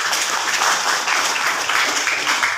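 Classroom applause from a group of students, steady close clapping that fills the whole moment without pause or talk.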